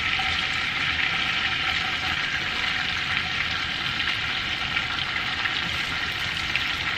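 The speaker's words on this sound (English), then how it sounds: "Once your butter is nice and melted, we're going to add our sliced onion." Sliced onion frying in melted butter in a pan for garlic-marinated shrimp: a steady, close, even sizzle that holds for several seconds with no one talking.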